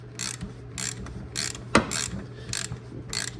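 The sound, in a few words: brake caliper piston compressor tool ratcheting on a Lexus RX350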